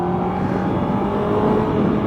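A 2011 Honda CBR600RR sport bike engine revving, a loud, close, sustained high-pitched buzzing drone with steady harmonics and no talking.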